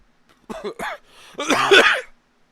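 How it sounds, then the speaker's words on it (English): A few short throat-clearing coughs up close, then a longer, harsher cough-like burst, each separated by brief quiet. "you might hear some coughing and the occasional sneeze"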